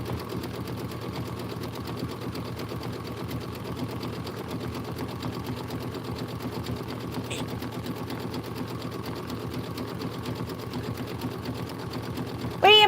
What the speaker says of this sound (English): we're going to be stitching down with linen